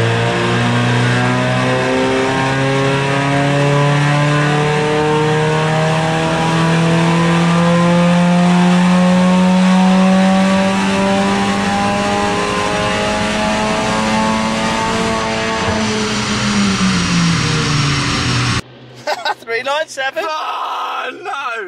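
A straight-piped Mercedes A45 AMG roars through a full dyno pull, its engine note climbing steadily for about eighteen seconds, very loud and close, then dropping abruptly into lower, rough bursts as the run ends.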